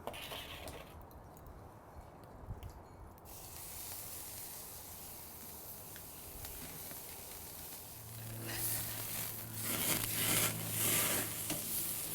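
Kosher-salt and black-pepper seasoned steaks, one brushed with canola oil, sizzle on a grill pit with a steady hiss that swells louder near the end, no talking over it.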